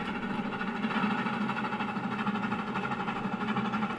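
Trains pass each other in the Trainz 2019 railway simulator, a steady mid-pitched locomotive engine drone rumbling evenly without pause.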